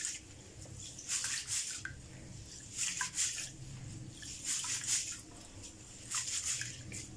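Rice being washed by hand in a bowl of fresh water, with repeated bursts of wet swishing and sloshing in a steady rhythm, close and moderately loud, with no talking.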